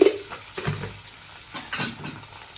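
Onions fry in a pan with salt and ginger-garlic paste while being stirred toward golden brown, giving a soft sizzle under a few scraping, stirring strokes close by.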